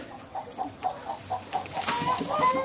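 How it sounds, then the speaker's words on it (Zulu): Chicken clucking in a rapid series of short, close clucks, growing busier toward the end over faint domestic background noise, with no speech. "Thokozile ngisize la inkukhu"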